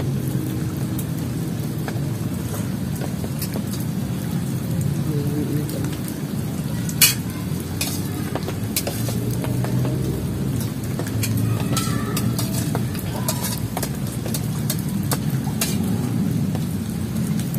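Heavy rain pours steadily over a plantation during a thunderstorm, a dense, constant hiss with a low rumble of thunder underneath and no voices throughout.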